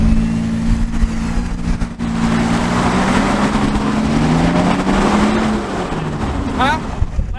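Engine of a Jeep Wrangler pulling a stranded 2023 Toyota Sequoia TRD Pro out from the rear, a steady loud drone with rising and falling pitch as it strains, with brief voices over it.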